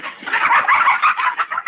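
Chickens cluck in a rapid, busy stream of bird calls, close and loud with no other sounds around them.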